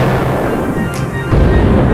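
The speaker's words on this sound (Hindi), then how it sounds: "क्या ये धमाका कमाल का था" A deep, rumbling blast from a test run rolls in as a sustained low roar, loud and dense throughout, swelling slightly toward the end.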